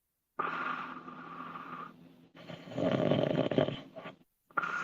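Loud, rasping snores from a sleeping dog in the back, two long drawn-out breaths close by, with another starting at the end and no talk over them.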